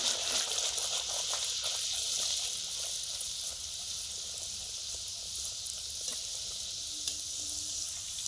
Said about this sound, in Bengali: এই যে লুচি ভাজছে।